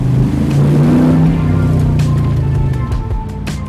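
AC Cobra engine droning loud and steady from inside the car as it drives in a convoy with an Aston Martin, Morgan three-wheeler and Porsches, with a slight easing of revs toward the end.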